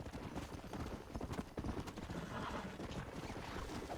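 Horse hooves clip-clopping at a steady rapid gallop in the Red Dead Redemption video game, a continuous run of close, even beats under faint background noise.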